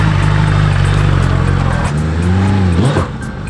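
A Suzuki Hayabusa converted into a motocross bike pulls away on soft, rain-soaked ground, its engine loud and close with a deep droning hum that rises and wavers in pitch as it revs, then drops away sharply near the end.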